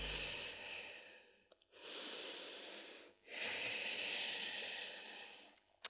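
Slow, deep breaths during a morning yoga forward fold, two long airy exhalations close to the microphone separated by a brief pause, soft and breathy with no talking.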